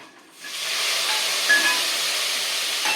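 Curry leaves dropped into hot oil for pori upma: a sudden, steady hiss of sizzling rises after a brief quiet moment and holds loud and even throughout.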